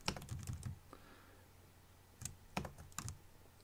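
Fingers type on a computer keyboard in quick bursts of close, light key clicks, with a quiet pause between the two flurries.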